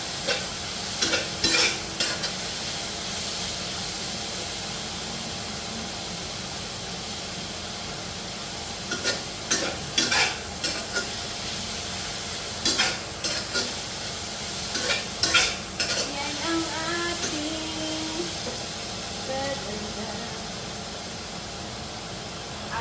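Mixed vegetables, salted and awaiting soy sauce, stir-fry in a skinless home pan over a steady sizzle, with repeated sharp scrapes and clanks of stirring in bursts.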